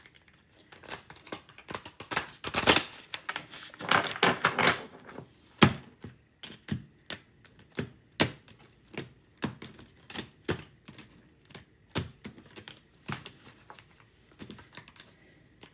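Rapid papery flicks and soft slaps, tarot cards riffled and tapped in quick irregular bursts, close and crisp with no talking.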